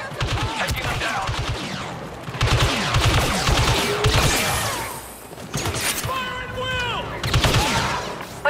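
Gunfire from Star Wars: Battlefront II during a ground patrol ambush, with repeated bursts of blaster shots and impacts in dense rapid volleys broken by short pauses, loud and close. Voices are heard over part of the firing.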